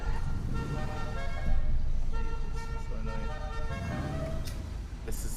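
A car horn sounds in long, sustained blasts over a continuous engine hum, with short breaks between the honks, in the Grand Theft Auto V roleplay server NoPixel.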